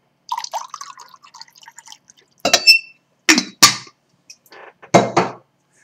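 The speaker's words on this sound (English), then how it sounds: "I'm getting a sip of water." Water poured from a pitcher into a drinking glass at a lecturer's desk: a few short, close, splashy bursts with small clinks and quiet gaps between them.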